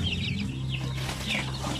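Pure Basilan chicks about one month old cluck and chirp close by, soft overlapping peeps and short clucks over a low steady background hum.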